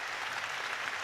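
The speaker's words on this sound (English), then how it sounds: "Now applause for Dave Barton as everyone inside the LNER Community Stadium gets to their feet." Crowd at the LNER Community Stadium on its feet applauding during a York City versus Barnet match, a dense, steady wash of clapping filling the whole moment.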